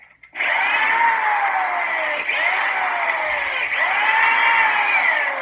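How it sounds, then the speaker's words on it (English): A power drill with a countersink bit bores into the wooden hull of a 30-foot dory, a loud steady whine held for several seconds with brief dips as the bit bites and releases. "I think when I use my countersink"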